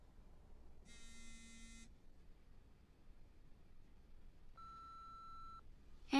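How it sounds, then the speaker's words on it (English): A phone rings with a buzzing, electronic tone: a short burst around the one-second mark, then a steady single-pitch beep later, both fairly quiet over low background hiss, with no one speaking. "You should answer the phone."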